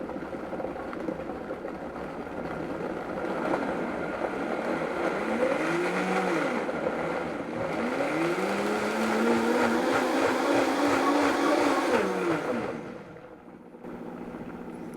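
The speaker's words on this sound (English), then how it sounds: "This is a nice strong mixer. This is my Vitamix. It's going to get kind of loud." Vitamix blender blending curry ingredients, a loud close motor roar that ramps up in pitch twice as the speed rises, then drops off near the end with no talk over it.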